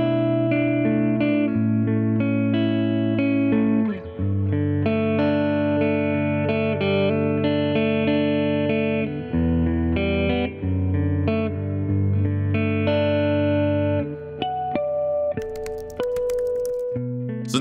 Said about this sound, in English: When you crank it up to 12, you just get this really beautiful reverb